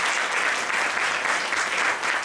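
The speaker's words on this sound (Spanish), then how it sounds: "Por favor, un aplauso." A crowd applauds steadily, a dense wash of clapping hands that holds at an even level throughout.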